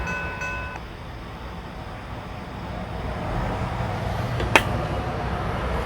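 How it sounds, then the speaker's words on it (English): An MBTA train rolls over a gated road crossing. A brief ringing tone sounds at the start, then a steady low rumble builds, with a sharp click near the end. "the ditch lights blinked while the bell rang and the train rolled over the crossing"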